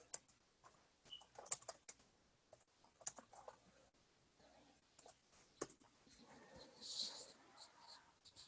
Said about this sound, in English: Can you hear the typing going?